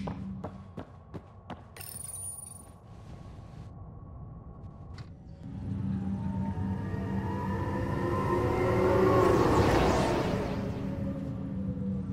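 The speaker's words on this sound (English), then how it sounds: "The tram system kind of reminds me of Dead Space a bit." A tram ride in the video game Mass Effect Andromeda: mechanical clicks and clunks at the start, then a steady, loud rumbling hum that rises and swells into a whooshing peak, alone with no talk.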